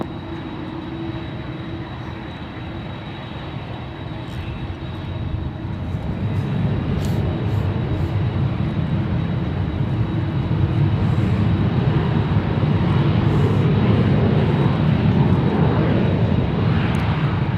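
An airliner takes off from runway 1 Left at San Francisco International Airport, its engine roar swelling from a steady hum to a loud, broad rumble that holds to the end, with no voices over it.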